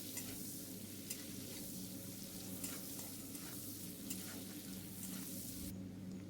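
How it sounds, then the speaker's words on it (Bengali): Chopped onion frying in oil with cumin seeds in a pan, a steady dense sizzle with occasional light scraping of a spoon, close and unbroken throughout with no voices. "এবার আমি পেঁয়াজটা ভালোভাবে ভেজে নিচ্ছি।"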